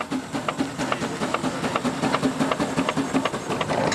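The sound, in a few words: old agricultural steam tractor starting up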